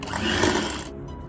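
An electric mixer beats cake batter after milk and oil are added, a steady close motor whir that cuts off near the end of a short burst, with no talking.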